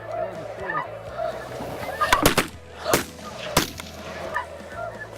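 Snow geese honking on a foggy morning hunt: nasal, layered calls from a flock carry at moderate distance, with a few louder sharp cracks punctuating the middle over a low rumbling background.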